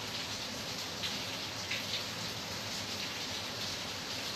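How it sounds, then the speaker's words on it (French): Steady, dense rain pours evenly throughout as a sound effect for an opening sequence, a continuous hiss with no distinct thunder rolls standing out. "Le générique va être fait avec la pluie et le tonnerre."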